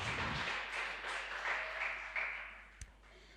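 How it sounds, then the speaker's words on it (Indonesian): Audience applause for speakers at a book discussion event, a soft, brief patter of clapping from a modest crowd that fades out quickly. "Tepuk tangan dong untuk pematerinya kita."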